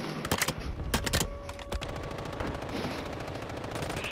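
Gunfire in a battle royale shooter game, a flurry of sharp rapid shots in the first second and a half, then scattered single cracks over a steady background rumble, fairly close.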